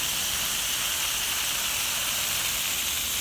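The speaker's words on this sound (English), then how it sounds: "Here's my fancy sprayer nozzle." A garden hose sprayer nozzle with a ball valve, used outdoors on a farm, gives a steady, loud rushing hiss of water spray with no break or talking.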